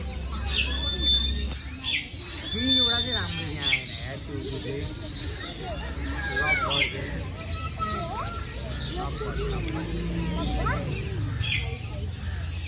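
Lovebirds chirp and call almost nonstop at a zoo in Kathmandu, a busy chorus of short tweets and warbles close by.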